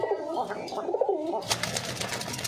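Soft, throaty cooing of Jalali pigeons, male and female pairs, close by, repeated in low rolling phrases, followed by a brief burst of rustling or flapping.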